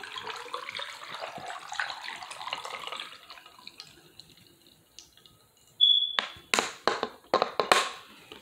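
Tap water runs for several seconds in a steady rush that is fairly quiet and close, then a bottle of detox tea is handled and shaken with several sharp splashing and knocking bursts. No one speaks.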